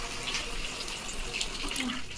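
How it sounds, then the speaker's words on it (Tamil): Tamarind water pours into a pan of sautéed onion and tomato for a fish curry, a steady, splashy liquid rush with no voices over it. "புளி தண்ணி ஊற்றலாம்."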